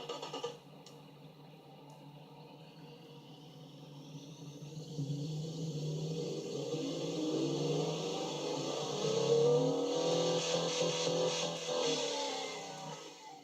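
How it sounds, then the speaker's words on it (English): V16 car engine in a video game with a high-flow three-way straight-through exhaust, a steady synthetic hum that rises gradually in pitch and loudness as it accelerates toward cruising speed. "everybody's heard what a V16 sounds like"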